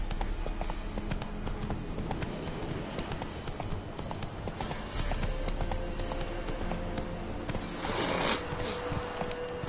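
Hooves of Roach, the horse in The Witcher 3, pound in a steady galloping clip-clop across the whole stretch, close and even, over constant outdoor game ambience with a brief bright swell near the end.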